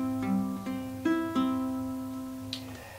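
Open guitar strings are plucked one at a time in a 3-2-3 pattern, each clear note ringing and sustaining into the next at a quiet, close level.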